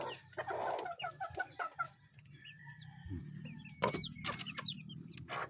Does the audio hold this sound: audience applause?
no